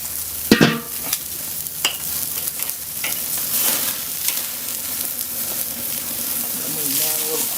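Buttered steak sizzles on the grate of a Weber Gold grill, a continuous close crackle and hiss with a few sharp pops and clanks of tools; a voice talks quietly over it.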